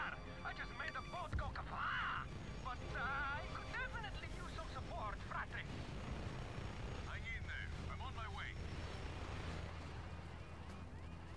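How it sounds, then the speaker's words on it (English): Helicopter flying in the Just Cause 3 video game, a steady low engine and rotor drone with warbling tones and bursts over it, under intermittent talk. "This chopper's not doing good."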